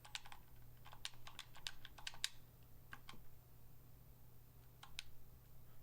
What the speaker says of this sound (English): we're just going to type his name in